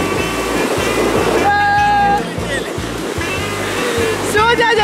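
Ocean waves break on a beach in a constant loud surging roar, with children's excited voices calling out over the surf.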